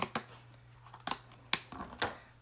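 Scissors cutting apart a layer of a paper mandala, close up and quiet: about five crisp, separate snips spaced irregularly over a couple of seconds.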